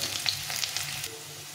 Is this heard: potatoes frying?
yes